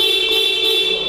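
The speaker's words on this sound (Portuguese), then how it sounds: "Olha só, o detalhe da buzina tá aí." A steady, shrill electronic horn tone sounds continuously for about a second, close and loud, with no talking.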